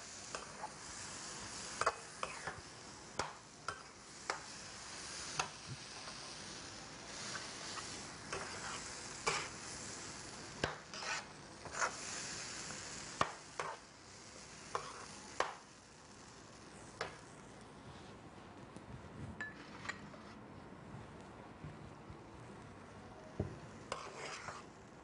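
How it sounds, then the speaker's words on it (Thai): Mushrooms, onion and garlic are stir-fried in a pan. A quiet, continuous sizzle runs underneath, broken by frequent sharp scraping and tapping knocks from the spatula striking the pan in an uneven rhythm. "ผัดพอมีกลิ่นหอมนะคะ แล้วก็เครื่องปรุงเข้ากันดีแล้วนะคะ"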